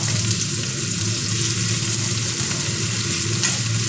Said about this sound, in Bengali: বাকি পুরোটাই আমি কড়াইয়ে তেলের মধ্যে দিয়ে দিলাম।